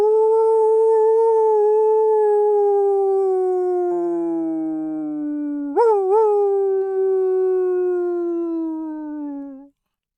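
Wolves in a forest at night howling: a long, loud sustained howl that slowly falls in pitch, with a second lower voice joining briefly and a sharp upward yelp partway through before fading out.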